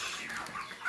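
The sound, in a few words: broiler chickens clucking on a farm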